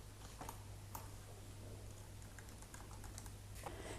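Keys on a computer keyboard are tapped in a quiet room, the soft irregular clicks spaced out over a low steady hum.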